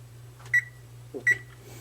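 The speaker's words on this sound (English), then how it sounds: "Timer." A kitchen oven timer being set for baking at 275 degrees gives two short, clear electronic beeps about three-quarters of a second apart, close by, over a steady low hum.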